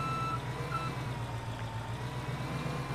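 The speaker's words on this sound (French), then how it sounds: "Bon après voilà le petit bip, hein." Steady electronic warning beeps from a New Holland tractor in a farming video game, sounding as a repeating low pulse over a constant engine drone, fairly quiet and with no talk.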